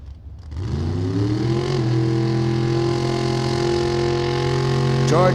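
A 1927 Ford Model T hot rod with a 434 stroker small-block V8 at a drag racing event, loud and close, revving up and holding a steady, rumbling roar before a brief rise at the end.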